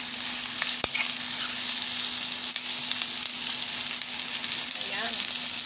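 Chicken frying in a pan for chicken curry masala, a steady close sizzle with a sharp clink of a utensil early on.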